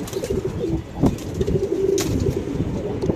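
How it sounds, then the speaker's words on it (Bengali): Pigeons in a loft coo continuously in low, throaty rolling phrases, close by, with a few faint background knocks and no talk. "খুব সুন্দর কিন্তু কবুতর আছে এখানে দেখতে পাচ্ছেন"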